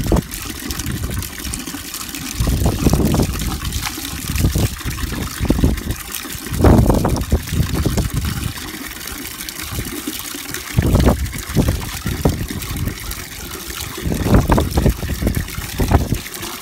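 Plain well water pours into a container in uneven bursts, splashing and gushing loudly, then easing to a trickle, repeated several times across a steady background.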